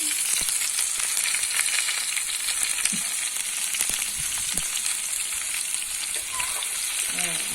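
Onions frying in a pan while making a three-flavour sauce for crispy grouper, a steady close crackling sizzle with small pops that runs unbroken throughout, with no talking over it.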